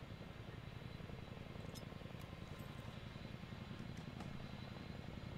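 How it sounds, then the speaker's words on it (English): Helicopter flying overhead in the military combat game Arma 3, a faint, continuous rotor and engine rumble steady throughout with a few small clicks and no voices. "Chopper's going southwest at one section."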